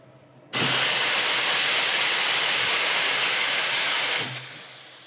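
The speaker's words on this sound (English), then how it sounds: "Another neat feature here is just how powerful the steaming is." An espresso machine's steam wand blasts at full power, a loud, steady, close hiss that starts abruptly, holds for about four seconds and then tapers off, with no voices.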